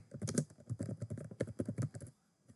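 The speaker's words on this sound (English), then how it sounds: "type in VirtualBox download" Steady run of keystrokes on a computer keyboard while entering a browser search, soft and close, tapering off into quiet at the end.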